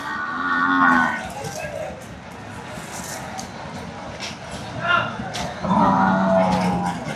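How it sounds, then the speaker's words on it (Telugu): A Jafarabadi buffalo at a livestock market lowing in long, loud moos, with quieter calls between, close by over background crowd noise. "ఇక్కడ ఒక జాఫరాబాద్ గేదె ఉంది"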